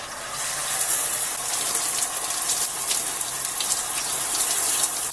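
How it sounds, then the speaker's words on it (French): A shower runs steadily in a holiday home near Cap-Ferret, a bright continuous hiss of spraying water that stays close and even throughout. "j'ai extrêmement chaud donc je prends une petite douche"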